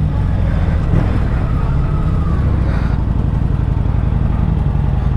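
A Kawasaki Vulcan 900 Classic motorcycle engine idles close and loud, giving a steady low rumble with a brief clunk partway through as the gear is shifted.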